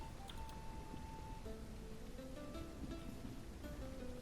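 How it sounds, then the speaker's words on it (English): Steady rain falls in the video game Noble Legacy as a constant, even hiss of patter with no pauses, alone and unbroken for a few seconds, with faint tones drifting over it. "It's been raining for a long time."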